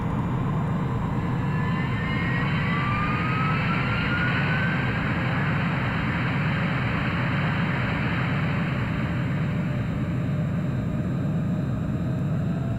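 An airplane's engines roar loudly and steadily during takeoff, a dense broadband rush with a rising whine sweeping upward as power builds, continuing unbroken without any talk.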